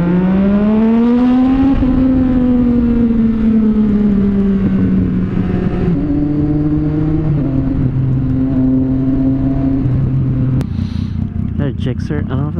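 A motorcycle with an aftermarket exhaust drones loudly and echoes inside a tunnel, its pitch rising and falling as it revs and shifts gears, with a voice talking over it.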